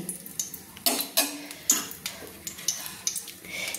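Two whole chillies are stirred in hot oil as a tempering for chang fish jhal: a light sizzle under repeated spoon scrapes and metallic clinks against the pan, coming in quick irregular strokes.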